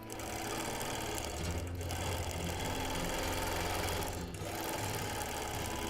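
Domestic sewing machine quilting a Quilt of Valor with ruler work, a close, steady rapid mechanical whir and chatter that runs continuously, with two brief dips in the drone.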